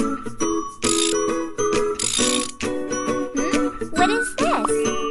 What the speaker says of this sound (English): Put in the bolts!